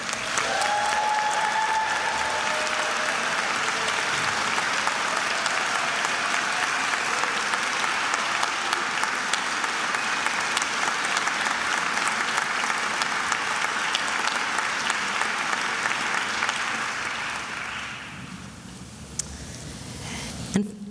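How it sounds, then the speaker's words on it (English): A large audience at a Fordham College Rose Hill awards ceremony applauds in a long, steady wash of clapping that holds for many seconds, then fades out near the end. "please rise to accept the congratulations and applause for their outstanding accomplishments"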